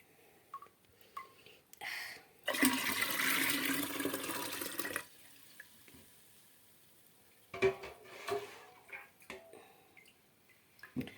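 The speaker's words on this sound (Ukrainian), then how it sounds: "красоту переливаємо у бутильки" Homemade wine pours into bottles in a steady rushing stream for a couple of seconds, followed later by shorter splashes, drips and glass clinks, close and without talk.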